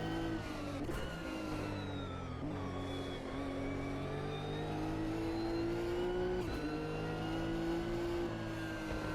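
Toyota GR Supra GT race car in Automobilista 2 at Fuji Speedway, its engine droning loudly and steadily throughout, pitch rising through the gears with brief dips at shifts, no voices over it.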